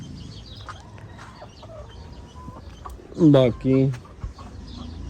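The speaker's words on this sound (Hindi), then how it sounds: "ये देखो जी, मुर्गियों को" Chickens on a farm give two loud, close clucking bursts in the middle, over a quiet background with faint scattered sounds and a brief spoken word.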